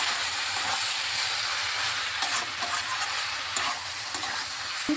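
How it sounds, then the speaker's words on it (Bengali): A vegetable and paneer patty filling sizzles steadily in a hot pan while being stirred, a continuous close frying hiss with occasional scrapes of the spatula and no talking. "একটু ভাজা ভাজা করে নিচ্ছি।"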